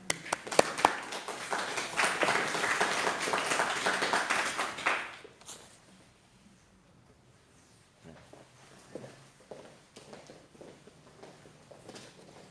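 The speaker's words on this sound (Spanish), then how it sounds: "Y este aplauso es para nuestro Señor Jesucristo." Church audience applauding at a Bible study on Job, a burst of dense clapping for about five seconds that fades out, followed by quiet with scattered taps and light movement.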